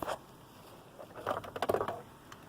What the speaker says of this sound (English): I would like the rain to go away now.